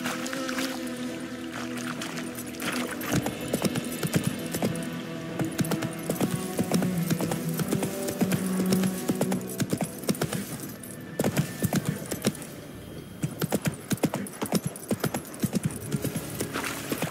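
Horse hooves clip-clop at a steady galloping rhythm in The Witcher 3, close and continuous over a dense game soundtrack, with a brief whinny and jangling tack.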